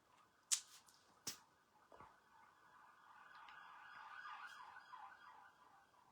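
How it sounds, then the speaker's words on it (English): A wailing emergency siren rises and falls in pitch as it passes at a distance, with a few sharp clicks early on and no talking. "So that to you just sounds like sirens."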